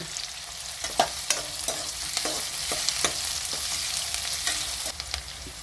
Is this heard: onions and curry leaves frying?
yes